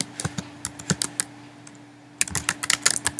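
Someone types on a computer keyboard at close range in irregular bursts of crisp key clicks, with a short pause in the middle before a quicker flurry.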